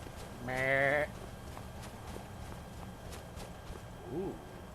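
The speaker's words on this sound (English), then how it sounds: "Hey, goat." A goat in the video game Skyrim gives one loud, wavering bleat near the start, followed by a quieter short call later over faint game ambience and light footstep ticks.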